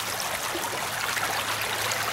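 Fast-flowing floodwater from an autumn flood rushes past as a stream, giving a steady broad hiss and gurgle of moving water that stays even and fairly close throughout.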